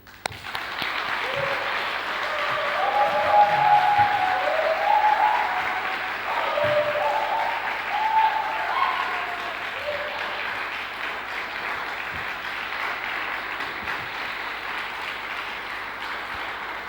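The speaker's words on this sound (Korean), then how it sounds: "우리 박수를 쳐서 장로님 환영해 드리도록 하겠습니다" Korean church congregation in Rome at a Saturday evening testimony service applauding to welcome an elder to the front, a warm, steady wash of many hands clapping that swells early and then slowly tapers, with faint low keyboard notes beneath.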